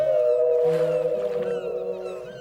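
A whale call sound effect for a children's finger-puppet story: a long, tonal, moaning cry with wavering pitch, sustained and clear, gradually fading over a couple of seconds with no talking over it.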